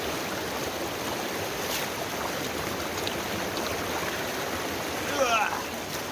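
Creek water rushes steadily at the Upright Creek crossing, a dense close wash of flowing water with a brief splash near the end, no talking.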